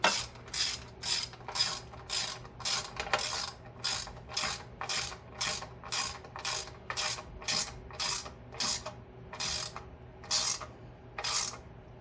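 A ratchet tightens the air cleaner bolts on a Porter Cable 8000 watt generator, steady close clicking strokes repeating in an even back-and-forth rhythm over a faint low hum.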